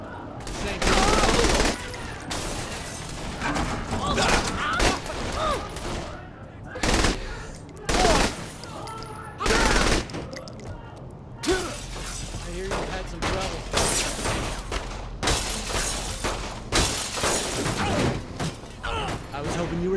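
A firefight in the video game Saints Row The Third, with dense, loud bursts of automatic and single gunfire, crashing impacts and clatter, nearly continuous across the whole stretch.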